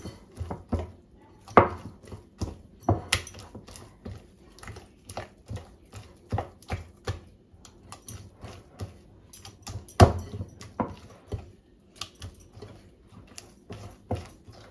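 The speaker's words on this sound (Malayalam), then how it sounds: "ഇനി ഇത് നമുക്കൊന്നുകൂടെ കുഴയ്ക്കാം. കണ്ടോ, നല്ലോണം അടിച്ച് കുഴയ്ക്കണം." Soft dough being kneaded by hand and slapped against a surface for an evening snack, a steady run of irregular dull thumps and pats, close and moderately loud, with no talking.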